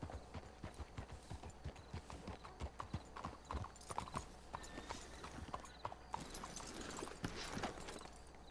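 Horses clip-clopping in Red Dead Redemption 2, a steady run of hoofbeats close by with faint game ambience and an occasional whinny-like sound.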